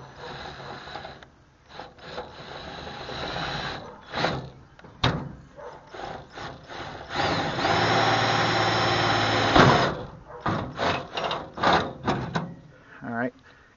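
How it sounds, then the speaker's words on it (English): A power drill boring through a metal bracket on a garden trailer being repaired, with a sustained whining grind of a couple of seconds between short bursts and clanks, someone talking around it. "I'm actually going to drill a hole."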